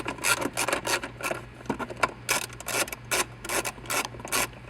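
Two 10mm bolts being backed out of a Hyundai Elantra center console under the pulled-up carpet, a rapid series of close, dry ratcheting clicks and scraping rasps in short bursts.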